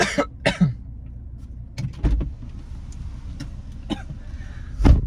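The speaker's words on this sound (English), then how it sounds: "I got a whooping cough, by the way." Several short, sharp coughs from a person with whooping cough break out up close amid quiet background noise, with a couple of louder bursts near the start and end.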